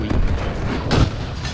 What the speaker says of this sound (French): J'aime bien ça, ouais, les gros canons.